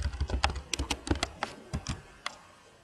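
Close, crisp keystrokes on a computer keyboard as a code is typed, a quick run of clicks that thins out to a few scattered taps, with no voices.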